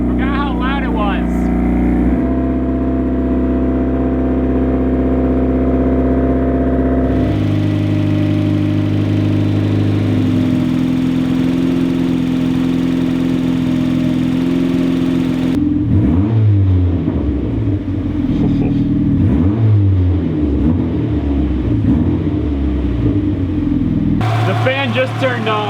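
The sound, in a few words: turbo Mazda Miata engine running while warming up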